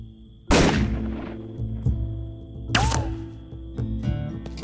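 Sniper gunshots in the video game 3 Minutes to Midnight: a sharp, loud crack, then a second shot a couple of seconds later, each trailing off, with quieter knocks in between.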